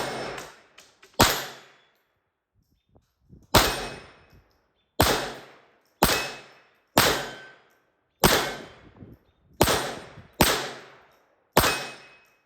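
Ten-round string of gunshots fired at steel targets outdoors: sharp cracks each followed by a ringing metallic clang, about eight loud shots spaced irregularly roughly a second apart, with quiet gaps between.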